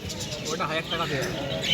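Pigeons coo at a pet and bird market at Dakshineswar, Kolkata, the soft calls mixed with other birds behind steady, close conversation about prices.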